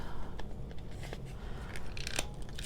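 Scissors trim a strip off a piece of card for a handmade mini folio, giving soft, close snipping and slicing sounds in a few quick bursts over a low background rumble.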